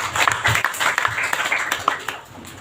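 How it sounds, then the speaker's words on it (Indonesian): Congregation clapping during a church service, a quick rhythmic burst of many hands close by that tapers off after a couple of seconds. "Mari kita tepuk tangan bagi Tuhan."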